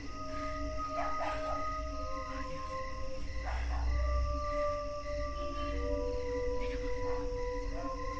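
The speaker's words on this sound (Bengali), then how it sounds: "বাইরে একটা কুকুর ডাকছে, আমি শুনতে পাচ্ছি।" A dog barks outdoors at night, its calls fairly distant and intermittent against a steady background hum, with no talking.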